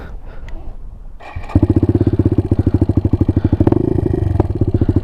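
A rebuilt Suzuki DR200 motorcycle engine fires up and idles with a fast, even single-cylinder thump, loud and close, with a brief rev partway through and a mechanical clatter over the beat.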